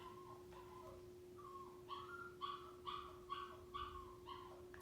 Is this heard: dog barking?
yes